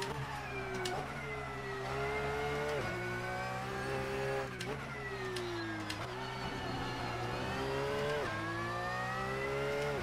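Race car engine in the Assetto Corsa racing game, driven on cold, low-grip tyres, drones steadily and loud throughout, its pitch climbing and dropping with repeated gear changes, with no talk over it.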